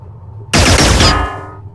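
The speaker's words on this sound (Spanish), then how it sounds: "Vale, he resistido los tiros." Gunfire from the turn-based strategy game Xenonauts: a single loud, dense burst of shots starts abruptly and lasts under a second, then fades into a ringing tail with no talk over it.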